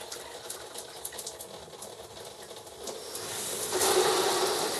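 Water runs from a newly installed corner shower faucet as a steady broadband rush that swells louder near the end as the flow is adjusted.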